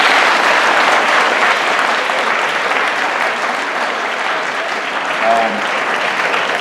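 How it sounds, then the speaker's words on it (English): Steady, dense audience applause fills a school alumni assembly, a loud, even roar of many hands clapping without pause, with a brief hint of a voice near the end. "Let's give these guys a big round of applause."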